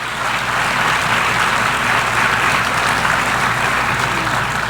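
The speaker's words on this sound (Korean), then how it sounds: "사람들은 계속 박수를 쳤습니다" Sustained audience applause in the hall of the UN General Assembly during a speech by the US president, steady and loud throughout with no pauses.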